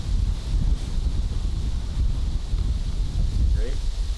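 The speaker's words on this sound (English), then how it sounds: "And it's windy." Wind gusts over the microphone outdoors on a cold, icy day at a disc golf course, a low rumbling roar that swells and eases throughout, with a short voice-like sound near the end.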